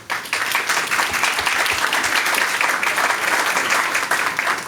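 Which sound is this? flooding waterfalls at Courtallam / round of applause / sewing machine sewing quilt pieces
round of applause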